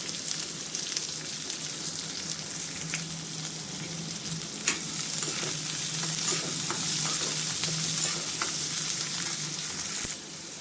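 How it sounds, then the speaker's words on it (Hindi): Chopped ginger, green chilli and onion fry in a pan with a constant close sizzle and crackle. Occasional stirring taps and scrapes sound over it, with no talk. "इनको डाल करके अच्छे से भून लेंगे।"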